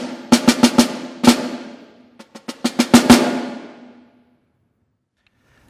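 Snare drum etude at forte: a run of sharp, crisp strokes in quick rhythmic groups, steady and fairly loud with a couple of accented hits, ringing briefly before the decay fades into silence.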